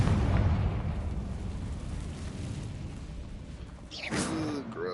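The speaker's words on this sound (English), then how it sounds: "Confringo!" A Confringo fire spell explodes in the video game Hogwarts Legacy, a loud booming blast that rumbles and fades over a few seconds, followed by a brief whooshing magical flourish.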